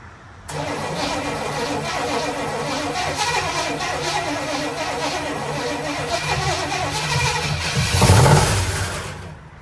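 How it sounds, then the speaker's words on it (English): A 1969 Camaro left sitting for 34 years cranks and fires over, a steady close engine churn that runs for several seconds and swells briefly near the end. "this car fired over"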